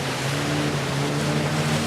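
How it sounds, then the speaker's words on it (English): A boat motors along a river through dense jungle, giving a steady, close engine drone layered with constant water and wind noise, with no talking. "we're trying to find a place where we can take the boat into the banks of the river"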